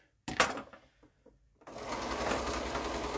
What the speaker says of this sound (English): You're just going to go down, sew them all together.